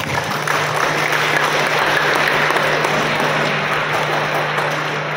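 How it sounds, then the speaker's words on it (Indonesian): An audience at a Hari Raya open house celebration in Lahad Datu, Malaysia, claps in a thick, continuous patter that stays even and loud throughout, with a low steady hum beneath and no speech. "Berikan tepuk tangan."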